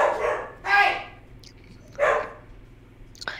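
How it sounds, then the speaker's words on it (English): Two pet dogs scuffle, letting out loud, sharp barks and yips in separate bursts a second or so apart, with quieter whimpering and rustling between them and no other sound over the top. "It seems as if Brady and Gracie are fighting"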